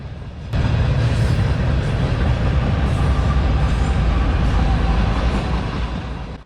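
A CSX freight train rolls past close by, a loud, steady rumble of wheels and rail noise that starts abruptly and holds without pause.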